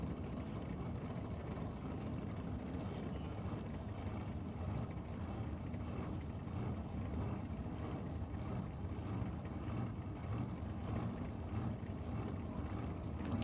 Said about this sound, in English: You can hear the lope of the blower up here.